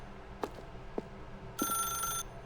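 Old-style telephone bell in The Stanley Parable video game rings once in a short bright burst, preceded by two soft knocks over a quiet low hum.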